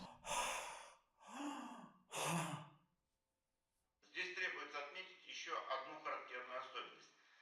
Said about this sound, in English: Or you have hard breath from happiness.